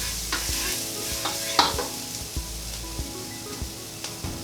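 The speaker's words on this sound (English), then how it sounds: "Just give it a quick stir around." Onions, garlic and peppers frying in oil with spice while being stirred, a soft steady sizzle punctuated by regular scraping stirs, close and without talk.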